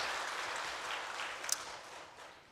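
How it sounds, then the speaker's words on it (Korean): A church congregation applauds a choir and chamber ensemble: a dense, steady wash of clapping hands that fades slightly toward the end, with no voices over it. "우리 크게 박수 격려 한번 하시겠습니다"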